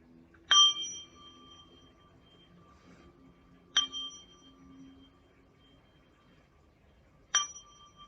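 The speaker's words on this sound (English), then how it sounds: "invite the sound of the bell to end this practice period." A meditation bell sounds three times to close a practice period, each strike a bright, moderately soft ring with a short decay, spaced a few seconds apart over a quiet, faintly noisy room.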